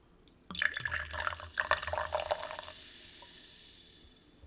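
Soda poured into a glass: a sudden splash, then a couple of seconds of bubbly, gurgling pouring that gives way to a steady soft fizz, close and alone with no talking.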